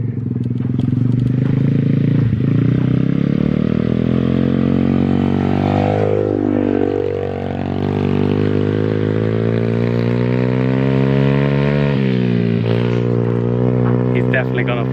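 A Welsh pit bike with a 125cc engine runs steadily and loud up close while a learner rides it, its pitch rising and dipping through gear changes as someone talks over it.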